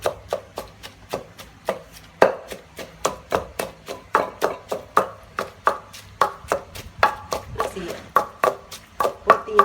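Boiled ingredients pounded for a simple vegetarian bak jong soup: a fast, even run of close, sharp thuds, around four strikes a second, continuing without pause.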